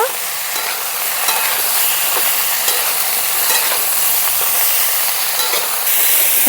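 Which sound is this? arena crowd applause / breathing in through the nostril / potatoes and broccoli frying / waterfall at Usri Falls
potatoes and broccoli frying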